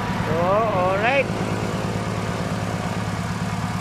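Mitsubishi car engine running at a steady idle, a loud, close, even rhythmic throb that continues throughout, with a brief wavering tonal sound near the start.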